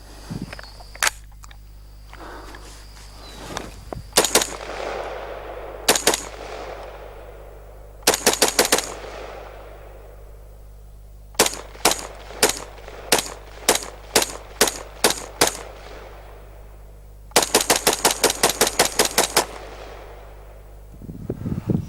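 A Ruger SR-556C piston-driven rifle is test fired in loud, sharp shots, first single and scattered, then in quick strings of rapid bursts, each crack ringing out briefly, with no voices.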